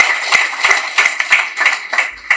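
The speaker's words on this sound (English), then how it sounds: "Please clap for her." An audience applauds a scholarship student at an awards ceremony: a steady run of sharp hand claps, evenly paced and fairly close, with no voices over it.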